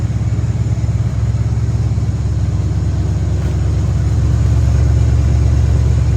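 A Ford F-100 pickup truck engine idles steadily with a low, even rumble that holds constant throughout, loud and close.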